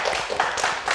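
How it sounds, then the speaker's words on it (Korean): Church congregation at a Korean Wednesday service clapping together, with several quick, loud, reverberant bursts of group applause over about one second. "이렇게 박수를 올리겠습니다"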